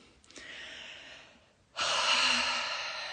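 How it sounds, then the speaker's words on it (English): A close, breathy exhale plays alone: a softer airy breath at first, then after a short pause a long, louder rushing exhale that holds steady and slowly fades. "For me, it's going to be like a nice long exhale."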